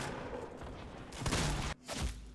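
Gunfire in the Fortnite video game, a burst of loud shots and thuds around the middle, broken by a sudden cut and then more noisy game sound, with no talk over it.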